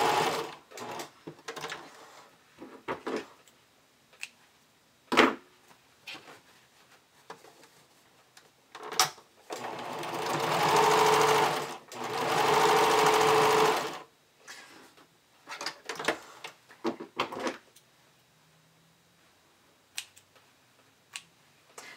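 A sewing machine runs two sustained bursts of top stitching on an underwire bikini top, the steady whirring stitch runs separated by brief handling clicks and fabric rustles in an otherwise quiet room.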